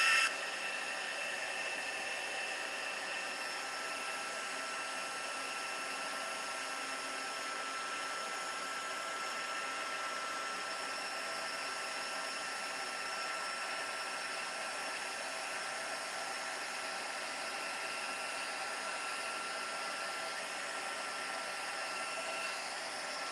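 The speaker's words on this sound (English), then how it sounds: "I'm going to heat emboss from behind, as I have been doing" Heat embossing tool blowing hot air onto embossing powder in a craft setting, a steady loud whooshing blow with a faint whine that runs unbroken from start to finish, alone with no talking.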